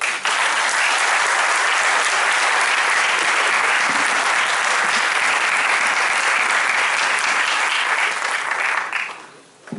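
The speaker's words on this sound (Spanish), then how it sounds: "Por eso les pido, por favor, otro aplauso." Sustained loud audience applause at a conference lecture, a thick, even roar of many hands clapping close by for nearly ten seconds before dropping away abruptly at the end.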